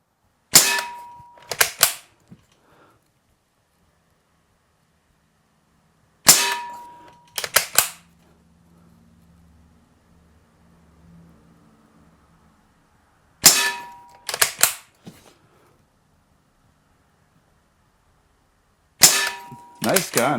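An Umarex Ruger 10/22 CO2 pellet rifle fires at a target: four bursts of sharp cracks, each a shot quickly followed by metallic pings, spaced several seconds apart with near silence between.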